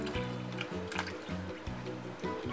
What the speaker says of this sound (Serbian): I naliti vodu. Znači koristimo mlaku vodu.